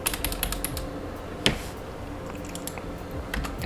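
Fast typing on a computer keyboard while coding a Godot 4 game, a close run of light clicky keystrokes with one sharper clack midway and no talk.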